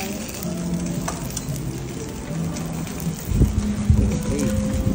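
A ribeye steak sizzles on a hot stone at a birthday gathering, a steady close frying crackle with background clatter and a louder stirring or scraping toward the end, while people talk nearby.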